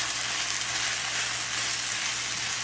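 Peppers being stir-fried for a sweet and sour dish sizzle loudly in a hot pan, a steady, dense, close frying hiss with no pauses and no talking.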